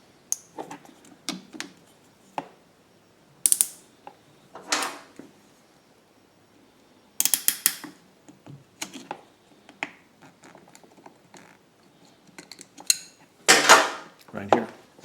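A hose clamp is fitted onto a fuel hose while installing an extended run time fuel kit on a Pulsar PGD95BiSCO generator. Sharp, sparse clicks and snaps come close by, separated by quiet gaps.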